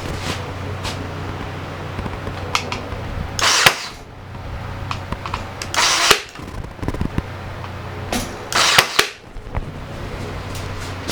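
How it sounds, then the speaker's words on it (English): Sharp, loud snaps from a brad nailer drive nails into a glued and clamped wooden frame for a farmhouse kitchen light fixture, a few scattered shots alone with quieter handling noise between them. "we're going to reinforce it with brad nails"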